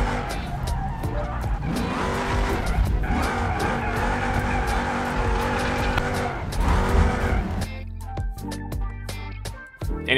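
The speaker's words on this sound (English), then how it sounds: "this is drifting with actual steering angle here" Car drifting in BeamNG Drive, its engine revving hard while the tires squeal and skid continuously for several seconds, loud and close, then the squeal breaks off as the engine drops to a rough idle near the end.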